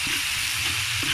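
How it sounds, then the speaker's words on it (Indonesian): Shrimp belacan fried rice sizzling loudly in a hot pan, with a steady frying hiss and soft scraping stirs over a brief stretch. "Kita tumis lagi, dia betul-betul masak."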